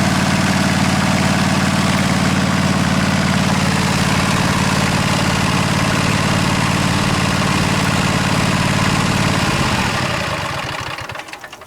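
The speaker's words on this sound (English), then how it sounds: "Okay, I got it running really good." A Husqvarna Z254 riding mower's engine runs loud and close with a steady low throb, then winds down and sputters to a stop near the end.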